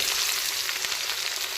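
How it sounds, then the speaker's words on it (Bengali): Chopped onion sizzling in hot oil with whole spices for a spicy chicken potato curry, a steady close hiss of frying throughout with no talk. "তো এখন দিয়ে দিচ্ছি পেঁয়াজ কুচি।"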